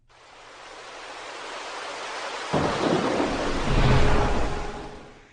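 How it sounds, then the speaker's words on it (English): A heavy rainstorm, dense steady downpour hissing throughout, then a deep rolling thunderclap breaks in halfway and rumbles loudly before fading, with no talk. "The rain falling so heavily and so quickly."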